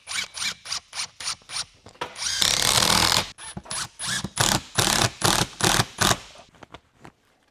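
A power drill drives screws into a shop ceiling, giving a series of short, close whirring and ratcheting bursts with one longer continuous run in the middle, no speech.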